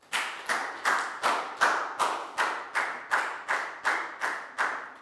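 Students in a Year 4 maths lesson clap in unison, about a dozen sharp, evenly spaced claps at a steady rhythm, close and clear with no talk.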